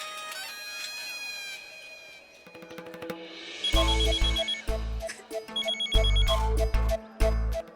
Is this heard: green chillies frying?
no